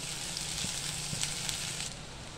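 Chopped onions sautéing in a pan for an Indian veg thali, a steady soft sizzle with faint crackles throughout, quiet and close with no talking.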